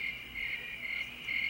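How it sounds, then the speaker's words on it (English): Crickets chirp steadily from a television soundtrack in a sitcom scene, a continuous high trilling drone that pulses slightly and holds throughout, fairly loud with no voices over it. "Are the crickets too loud?"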